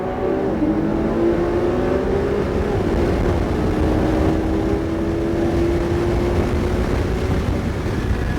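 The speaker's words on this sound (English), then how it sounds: "Now accelerate." A car accelerates hard on a driving track at a motor facility, its engine note climbing steadily in pitch as a loud, continuous drone from start to finish.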